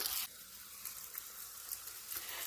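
Oil heats in a frying pan on a home stove and gives a soft, steady sizzle with faint crackles, after a louder burst at the very start; no voices are heard.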